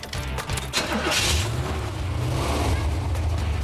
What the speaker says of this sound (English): time for a test drive